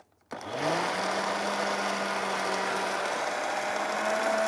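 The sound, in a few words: blender mixing sugar and liquids for homemade condensed milk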